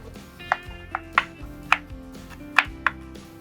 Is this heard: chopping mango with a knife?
yes